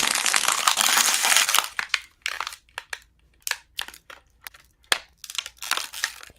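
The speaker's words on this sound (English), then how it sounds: "Crashing bottles." Bottles are crushed and crumpled in a long loud burst, then a series of sharp irregular crunches and crinkles, close and with no talking.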